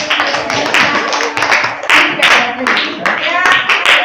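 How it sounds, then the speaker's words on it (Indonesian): A small group in a school coaching session claps in quick, close bursts, fairly loud and slightly rhythmic, with voices calling out and chattering over the clapping throughout. "kasih tepuk tangan lagi"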